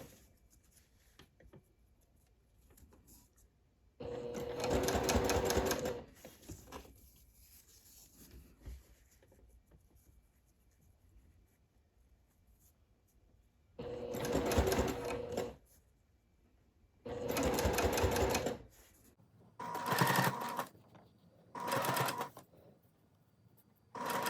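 A sewing machine bastes rickrack trim onto a pair of reversible shorts, running in several short, moderately loud bursts separated by quiet pauses with faint handling noise.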